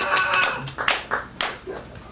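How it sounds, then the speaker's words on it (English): A handful of distinct hand claps ring out at the taping of the Kill Tony comedy show, sparse and uneven, a few separate slaps rather than full applause. "And then that's when you clap."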